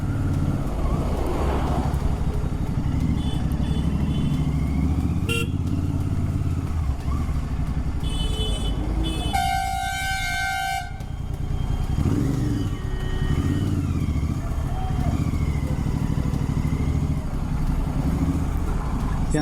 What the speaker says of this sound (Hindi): इतने क्रैकल्स और इतने प्यारे क्रैकल्स।